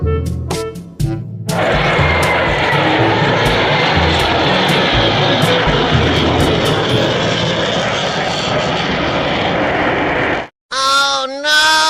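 A toy fighter jet plays a loud, continuous jet-engine roar for about nine seconds, preceded by brief electronic beeps and followed by chirpy toy tones as it cuts off.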